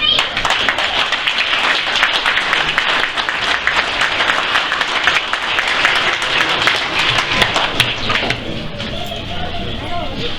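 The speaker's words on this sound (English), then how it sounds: "So I just want to give a big round of applause" A crowd at a high school football awards gathering applauds the players: loud, dense, continuous clapping throughout, with voices and cheers mixed in and a slight easing near the end.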